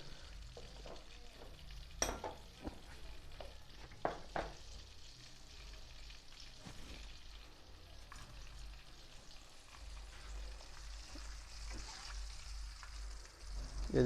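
Ingredients for kung pao chicken fry in a pan with a quiet, steady crackling sizzle and occasional light spatula taps, alongside a low background hum and no voices.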